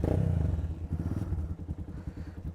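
A 250cc motorcycle engine and exhaust on an off-road track, a close, throbbing low rumble with rapid pulsing firing beats and some clattering, steady and without voices.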